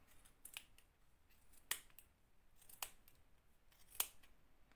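Scissors snipping through yarn wound on a pompom maker, three or four crisp, separate cuts spaced about a second apart, close but quiet over near silence.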